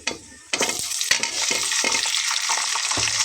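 Cumin seeds and tomato hit a hot pan and fry, a burst of sizzling followed by several scraping stir strokes, then a steady, loud hiss that continues to the end.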